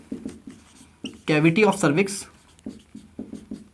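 A teacher writing notes during an anatomy lecture, quick scratchy strokes tapping in short bursts around a stretch of spoken explanation in a quiet room.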